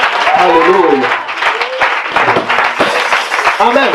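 A worship congregation applauds and cheers to acclaim Jesus, crowd clapping running throughout with loud voices shouting and calling out over it.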